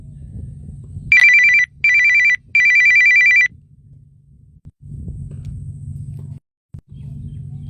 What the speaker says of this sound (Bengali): ফোন না ধরলে সেই বারে বারে ফোন